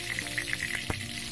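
Reused cooking oil spatters and crackles in a frying pan after contact with water, a steady close sizzle broken by sharp pops, with no one talking.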